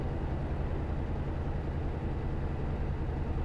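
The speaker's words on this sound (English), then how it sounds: "The engines are just beautiful sound." A heavy truck engine drones steadily in Euro Truck Simulator 2, a constant low rumble and hum that stays even throughout with no talk over it.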